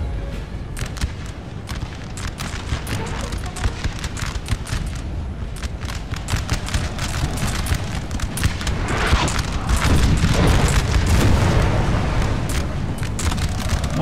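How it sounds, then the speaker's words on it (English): Artillery cannon fire in the Napoleon: Total War battle game, a continuous barrage of deep booms and cracks layered over a rumbling battlefield din that swells louder toward the end. "Nice hits there from the Elbe artillery."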